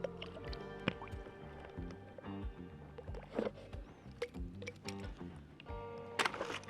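Water and gold poured from bottles into a pan while treasure hunting in the Utah desert: close, quiet trickling and dripping with soft splashes and sloshes, with a few small knocks and clinks throughout.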